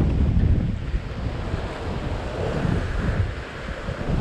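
Ocean surf rolls and crashes continuously at a seaside fishing spot near Maroubra in Sydney, a broad steady wash of waves mixed with gusting wind buffeting the microphone, with no voices.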